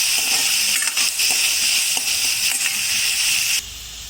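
Onion sizzling in hot oil seasoned with cumin, mustard seeds and fenugreek, a steady bright hiss with small crackles and pops that cuts out abruptly near the end.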